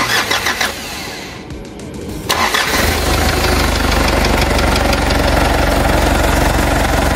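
A 1994 Mitsubishi Pajero NJ 2.8 turbo 4x4 engine cranks briefly, fires and settles into a loud, steady cold idle close by, with no talking.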